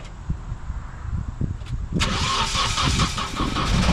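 A Nissan 240SX with an ISR exhaust cranks for a couple of seconds and then fires up, settling into a loud, steady idle that carries on to the end.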